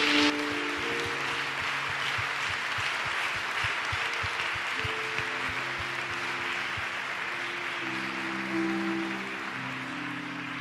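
A church congregation claps for Jesus after a prayer service, steady sustained applause filling the room for about ten seconds, with organ or keyboard tones held underneath.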